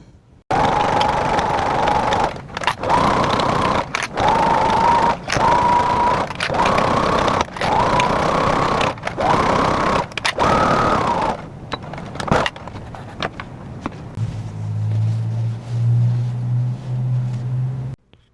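A sewing machine runs a straight stitch at high tension and slightly longer stitch length, sewing in close, steady bursts broken by short pauses, then a low hum near the end.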